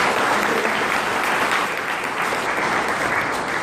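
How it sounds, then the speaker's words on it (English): An audience applauds steadily in a large hall at a Times Group technical education event, a dense wash of many hands clapping throughout, loud and continuous. "Can we have a round of applause for him?"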